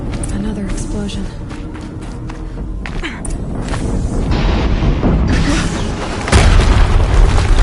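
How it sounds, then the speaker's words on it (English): Booming explosions in the Horizon Zero Dawn video game, deep low-frequency blasts and thuds building louder toward the end, mixed with game action and a voice talking over them. "Another explosion."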